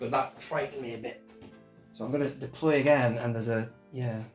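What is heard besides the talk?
None of the usual background noises is heard.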